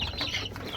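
Chickens fed freshly cut grass, short close clucking over a brief busy patch of pecking and rustling, no voices.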